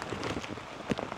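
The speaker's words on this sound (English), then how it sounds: "hopefully this rain subsides soon." Rain falling steadily on a tent during a family camping trip, a soft diffuse patter with a few louder drops, heard up close and alone.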